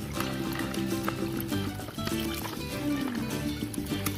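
Water splashing and trickling while Hot Wheels toy cars are washed: continuous close sloshing and dribbling with small clinks, fairly quiet and unbroken throughout.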